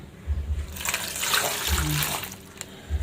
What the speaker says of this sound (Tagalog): na nga po ay lalagyan ko ng tubig.